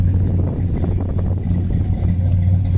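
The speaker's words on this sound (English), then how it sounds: "Got a really nice sounding dual exhaust." A 1972 Buick Skylark with dual exhaust idles and revs close by, a loud, steady low rumble from the engine with no voices over it.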